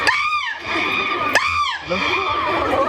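A mimicry artist on stage imitates the din of a noisy, crowded market with his voice. Loud, shrill wailing cries rise and fall in two or three sweeping calls over a rough background.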